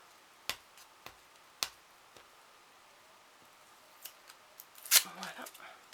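Small transparent tape dots are picked and peeled off a plastic package of glitter stickers, making a few quiet, sharp clicks and snaps spaced apart, then a brief crinkly tearing rustle near the end.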